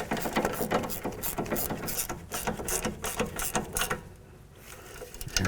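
Rapid ratcheting clicks of a wrench tightening the mounting nut on a front sway bar link of a 2007–2012 Dodge Caliber, in dense bursts up close, easing off near the end.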